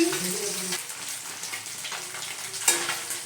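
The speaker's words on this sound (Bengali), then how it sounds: "মাছটা আমার ভাজা হয়ে গেছে" Fish fries in a pan with a continuous close sizzle that swells and fades slightly. A sharp clink comes near the end, and a faint voice may sit underneath.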